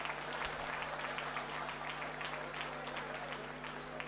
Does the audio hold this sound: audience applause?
yes